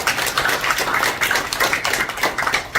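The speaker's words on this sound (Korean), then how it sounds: "박수 한번 쳐주십니까?" Audience clapping at a Korean foundation launch ceremony, a steady, dense patter of many hands in a hall with no voices over it.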